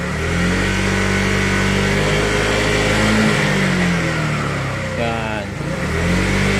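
Kymco Dink R 150 scooter engine revving steadily with traction control switched off, a loud sustained drone with shifting pitch and a brief dip near the end, while someone talks over it.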